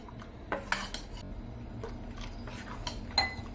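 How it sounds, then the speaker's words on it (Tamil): Dosa batter with chopped banana stem mixed in, stirred in a bowl: a few scraping, clinking strokes of a utensil against the bowl, close and moderately loud, with no talking. "இதையும் சேர்த்து நல்லா கலந்து விட்டுருங்க."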